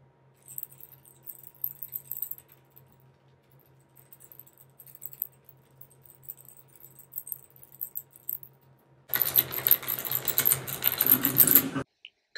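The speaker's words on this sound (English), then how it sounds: "let's go ahead and let's do a typing test to see how these sound" Clicky switches on a Logitech G915 mechanical keyboard clatter in a brisk, dense burst of typing after several seconds of faint, sparse keystrokes and quiet room hum.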